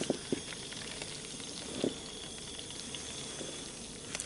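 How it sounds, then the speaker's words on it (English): Boiled potatoes are drained, with water pouring and pattering steadily into a sink alongside a few sharp splashes and knocks, close and fairly quiet. "Just going to drain my potatoes."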